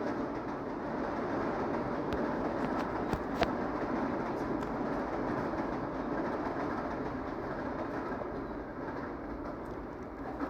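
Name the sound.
train passing nearby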